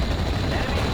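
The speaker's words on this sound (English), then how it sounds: "open up with the machine guns" Machine gun fire in the Normandy 44 war game, a loud, dense burst of rapid shots blurring into one continuous roar over about a second.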